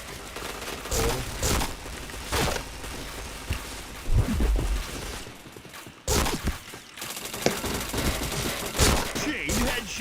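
Gunfire in a shooter video game, with rapid bursts of shots and sharp impacts crowding together, loud and dense, with brief pauses and a voice speaking at times.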